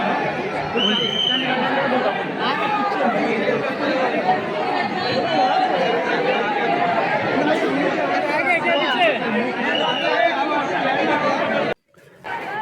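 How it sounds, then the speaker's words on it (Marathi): A large crowd of devotees at Dwarkadhish temple in Virar chatters continuously, with many overlapping voices close and loud, before a brief cutoff near the end. "तुम्हाला आज गर्दी खूप असल्या कारणाने"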